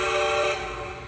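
Whistle of a Lionel LionChief Plus 2-8-4 Berkshire model steam locomotive, a single sustained tonal blast, loud and close, fading slightly toward the end.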